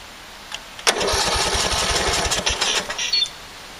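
A riding lawn mower's small petrol engine, choked for a start, catches after a short crank and runs roughly with an uneven, throbbing idle that swells and dips for a few seconds close by.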